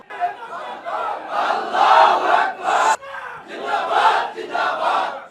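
A large crowd chanting the takbir slogan Allahu Akbar together at a political rally, two loud, swelling waves of massed voices with a brief pause between them.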